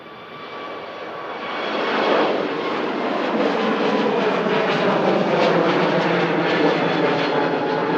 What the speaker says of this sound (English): the aircraft is sounding lovely from here